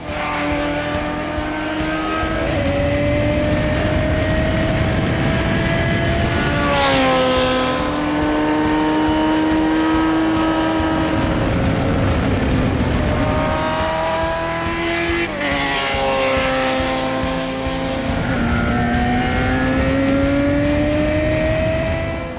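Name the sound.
Sierra RX3 race car at Pikes Peak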